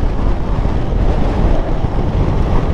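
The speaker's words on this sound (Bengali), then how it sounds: "আর হাওয়াও দিচ্ছে সেই" Strong wind buffeting the microphone on a mountain valley road in Spiti, a loud continuous low roar and rush with no pauses and no voices.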